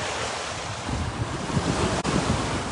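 Ocean waves break on the shore under strong wind buffeting the microphone, a loud continuous wash of surf and gusts.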